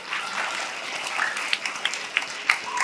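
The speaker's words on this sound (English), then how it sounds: "let's give them a nice clap." A crowd claps steadily for a few seconds at a school Earth Day celebration, a dense patter of hands with a few sharper individual claps standing out near the end.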